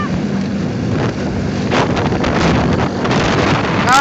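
A motorcycle rides slowly through thick fog, its steady engine drone mixed with heavy wind buffeting the microphone and continuing unbroken throughout.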